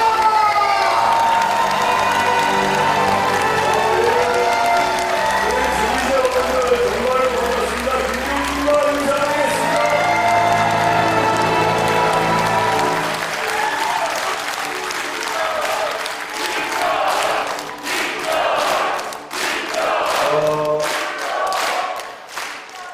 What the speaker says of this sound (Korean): 여러분, 큰 박수와 감사를 부탁드립니다.